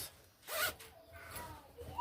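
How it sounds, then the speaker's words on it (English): A zipper on an Ankara fabric and leather tote bag is pulled shut in a few quick rasping strokes, close and fairly quiet, with no talk. "we zip it."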